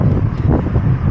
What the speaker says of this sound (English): coping with a bloody windy storm